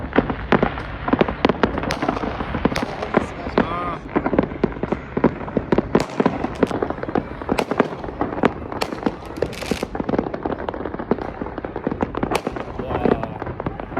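Dense, continuous fireworks crackle and bang throughout, sharp bursts overlapping in rapid succession, loud and close, with voices faintly mixed in.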